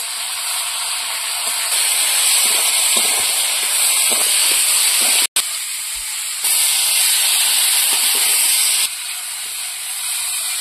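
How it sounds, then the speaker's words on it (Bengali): Potatoes with salt and turmeric sautéing in a pan: a loud, steady hissing sizzle fills the whole stretch, briefly cut off once near the middle, with no voices. "এবার আলুটা ভালো করে কষিয়ে নেব।"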